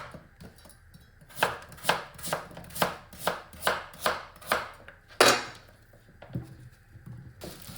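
Vegetables are chopped on a cutting board with a knife during healthy meal prep, a close run of about a dozen evenly spaced sharp thuds followed by a pause and a couple of slower cuts.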